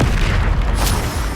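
A Confringo explosion spell in the video game Hogwarts Legacy, a single loud, deep boom with a rumbling burst that fills the short moment, close and alone.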